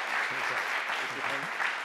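Audience applause at the Blue Ocean Awards 2016 event in France, a steady dense wash of clapping from a seated crowd. A voice can be heard briefly under it.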